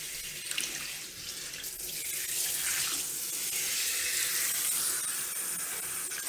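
Water runs steadily from a swivel faucet extender adapter set to a soft shower spray into a sink, a continuous close hiss that swells after a brief quieter start and holds level to the end.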